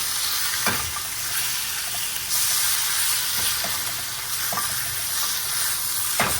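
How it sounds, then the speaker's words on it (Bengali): Chicken fries in hot oil in a wok, a continuous close sizzle with occasional sharper crackles and stirring scrapes spaced every second or so, with no talk. "এইভাবেই ভাজা ভাজা করে নেব মুরগিটা"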